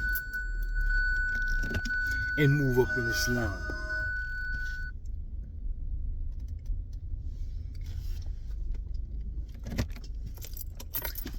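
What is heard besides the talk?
car being started, keys jangling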